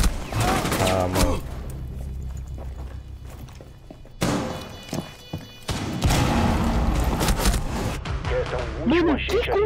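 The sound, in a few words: gunfire in video game Rainbow Six Siege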